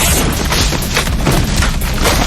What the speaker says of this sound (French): Soudain, la roche sous ses pieds a cédé